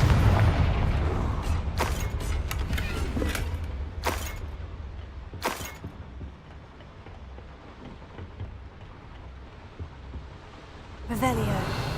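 Confringo fire spell in Hogwarts Legacy, a deep booming blast with crackling debris, followed by further thuds and another burst later on, with game voices around it.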